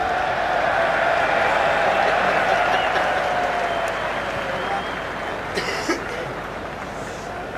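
Cricket crowd at a South Africa versus Australia Test match giving a mocking Bronx cheer, a steady broad wash of jeers and applause from a large stadium audience, sustained throughout with a few sharper claps near the end.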